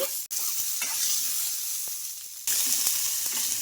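Green chillies, tomatoes, ginger and garlic fry in oil in a pan with a steady close sizzle, broken by occasional stirring scrapes and a brief pause before the frying noise resumes louder.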